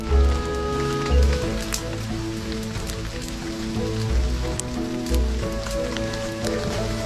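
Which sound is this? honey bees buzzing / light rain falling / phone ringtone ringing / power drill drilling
light rain falling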